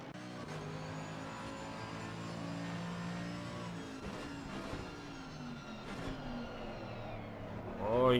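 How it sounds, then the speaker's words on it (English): A race car's tyres scrub hard under load into the La Source hairpin at Spa in a racing video game, a steady engine drone with a rising surge at the end, heard beneath commentary. "you hear the tyres under duress there"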